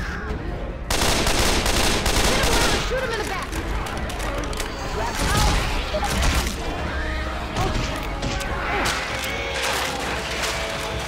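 Dense, loud gunfire from a Left 4 Dead 2 versus match, with continuous shots and bursts layered over game noise and crashes, while players talk over the chaos throughout.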